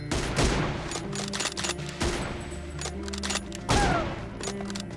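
Bursts of gunfire from the battle royale game BGMI crack out in several loud, separate volleys, some rapid and repeated, with booming echoes between shots.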